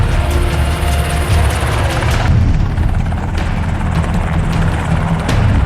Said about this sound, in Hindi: तभी 2 हेलीकॉप्टर एबटाबाद की इस गुमनाम हवेली के ऊपर आकर ठहर जाते हैं